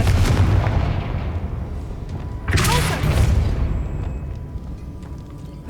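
Explosive blast from a fire-casting spell in the Hogwarts Legacy video game: a heavy booming burst followed by rumbling, crackling debris, then a second strong blast that decays into a low roar.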